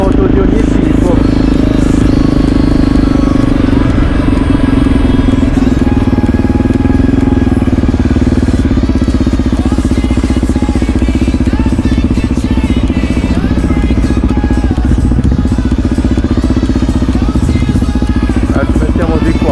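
Several motorcycles of mixed types rumble and idle loudly and continuously at a crowded bar on the Genna Silana mountain pass in Sardinia, with the babble of a large gathering mixed under the engines.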